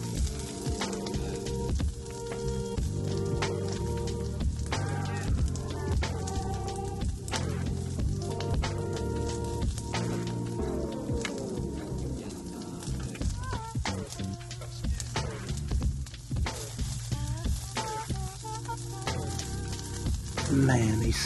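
Greens and mushrooms sizzle and crackle steadily in olive oil in a pan, a continuous frying hiss with scattered pops and light stirring.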